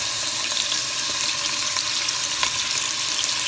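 Spices with paprika simmering in a pan for Moroccan couscous, giving a steady, soft hiss and gentle bubbling with faint crackles, close and continuous with no talking.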